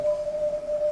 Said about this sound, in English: that spark now has become Morse code